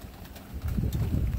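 Low soft cooing of pigeons close by, a few murmuring calls over light wind rustle, no talking.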